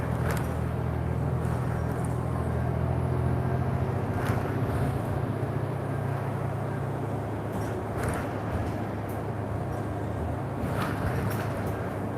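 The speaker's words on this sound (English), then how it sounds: "this NG diesel is very stealthy and it does a good job" Inside a TTC NG diesel bus on the move, a steady low engine drone and road rumble fill the cabin, with light rattles and a few brief clicks over the constant hum.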